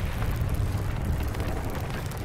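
A volcano erupts in the pirate video game Sea of Thieves, giving a steady, loud, deep rumbling roar with dense noise that continues without a break.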